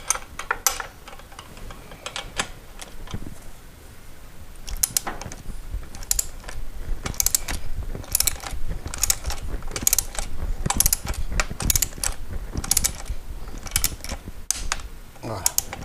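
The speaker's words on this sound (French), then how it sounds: "Donc moi j'y vais à la clé diamométrique." Torque wrench tightening the rear wheel axle nut on a Kawasaki ER-5 motorcycle, a series of close, sharp ratcheting clicks and metallic taps in irregular bursts throughout.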